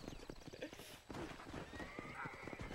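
Horse hooves clip-clopping with a whinny from a pale, sickly horse in the video game Red Dead Redemption, rhythmic hoofbeats under faint background sound with a neigh rising partway through.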